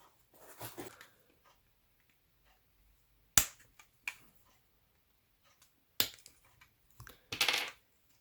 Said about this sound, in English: And then just quickly snip off these two little pieces.